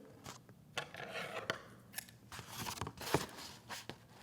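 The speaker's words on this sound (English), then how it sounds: "We need to cut that out with a pair of scissors." Scissors snip through paper while cutting out an apple basket craft piece, a close run of short, quiet crisp cuts in an irregular rhythm, heard alone.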